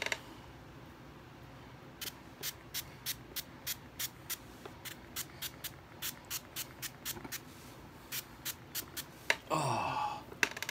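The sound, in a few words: spraying a spray onto a wound dressing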